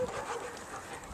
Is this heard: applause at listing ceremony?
no